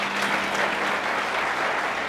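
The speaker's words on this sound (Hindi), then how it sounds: "जोर से ताली बजाएं।" A church congregation claps loudly and continuously at a Christian worship service, a dense, sustained wash of applause with a faint murmur of voices underneath.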